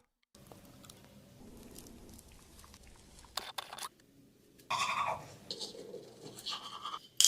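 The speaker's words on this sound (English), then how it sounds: "Regular toothbrush is crazy, by the way." A regular manual toothbrush scrubs teeth at close range, giving intermittent scratchy bristle bursts with short pauses between strokes and a louder flurry near the end.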